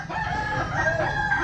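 An Albany sweater gamefowl rooster in a backyard crows one long, clear call, fairly close and alone without talk.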